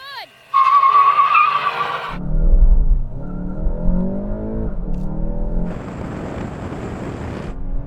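Engines roar and tires squeal as Volkswagen GTI cars of different generations launch in a drag race, with screeching and revving, then a rising engine whine; excited voices shout over it.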